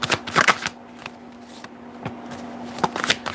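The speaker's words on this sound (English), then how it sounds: "I'm not shuffling very well, so let me just do this." A deck of tarot cards being shuffled up close, with a few quick riffling bursts separated by quieter pauses and soft card taps.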